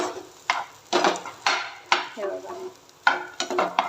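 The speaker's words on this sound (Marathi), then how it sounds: "तर आता ह्याच्यामध्ये मी ना दोन चमचे शेंगदाण्याचं कूट ॲड करते व्यवस्थित एकदा मिक्स करायचं" Potato bhaji being stirred with crushed peanuts in a pan over a medium-low flame, a spoon scraping in repeated bursts with soft sizzling between, close and fairly loud.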